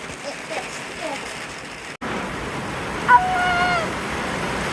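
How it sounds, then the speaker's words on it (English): Summer rain falls steadily around a garden polytunnel, a continuous soft hiss and patter that stays fairly even throughout, with a brief bump partway through and faint voices mixed in. "This is the rain"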